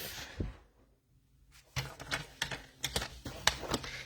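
A bone folder or scoring tool pressed along paper for a card base: a short scrape, a pause, then a run of quick scratchy taps and strokes, close and moderately loud, with no talk.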